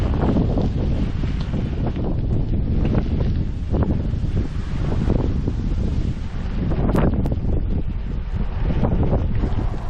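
A breezy, cool morning outdoors on country backroads near Portlaoise, with steady loud wind rumbling across the microphone throughout and light rustling mixed in.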